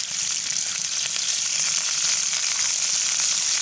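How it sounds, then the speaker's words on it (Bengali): Green chillies frying in hot soybean oil in a pan, a steady close sizzle and crackle that holds even throughout with no voices. "দিয়ে দিলাম সয়াবিন তেল, দিয়ে দেবো কাঁচামরিচ,"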